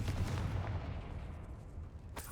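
A fiery Confringo spell blast in Hogwarts Legacy, a dull low booming burst that rumbles and fades over a couple of seconds, fairly faint and alone.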